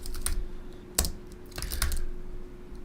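A few scattered keystrokes on a computer keyboard, close and moderately loud, with sparse taps spread over a steady low hum and no talking.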